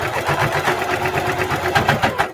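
Sewing machine stitching a patchwork duffle bag at a 3.5 stitch length, a close, steady rapid chatter of the needle with even pulsing rhythm, quickening slightly near the end.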